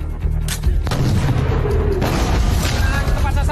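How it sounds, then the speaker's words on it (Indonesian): A heavy artillery ranging shot fires in an action film, one sharp booming blast followed by a rolling rumble and debris-like crackle, loud and close with no talk over it. "Laksanakan tembakan penilikan kedua."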